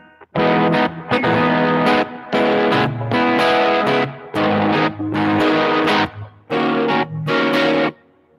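Heavily distorted electric guitar plays chunky chords in rhythmic bursts with brief gaps between them, loud and saturated.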